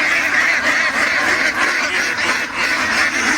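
Egg-laying ducks crowd a pen on a morning of egg collecting, a dense, continuous chorus of overlapping quacks and honks close by, with no voices.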